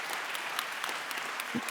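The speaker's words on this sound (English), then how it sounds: "I would love to ask for a round of applause for our speakers." Audience at a health care summit clapping for the panel speakers, a short burst of dense, fairly soft applause with scattered individual claps.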